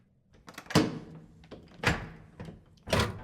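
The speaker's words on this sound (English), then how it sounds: "Colonel Lysander Stark stopped at last before a low door, which he unlocked." A low door being unlocked and opened, heard as a series of distinct wooden thunks and knocks, three prominent impacts spaced about a second apart with smaller clicks between, close and without speech.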